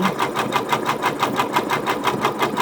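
A sewing machine running a blanket stitch along a cut appliqué edge, a fast, even mechanical chatter of needle strokes close by, with no talking.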